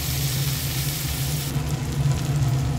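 Hilsa fish frying with onions in a pan gives a soft, steady sizzle close by, low and continuous with a faint crackle.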